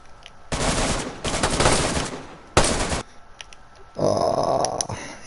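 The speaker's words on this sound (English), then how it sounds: "Someone's shooting at me." Bursts of automatic gunfire in the survival shooter DayZ come in loud, rapid volleys. Several separate strings of shots sound close and harsh, with brief gaps between them.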